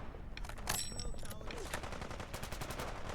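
Sniper rifle shots in the video game Fallout: London, a few sharp cracks with a dense burst near the start, fairly faint and close.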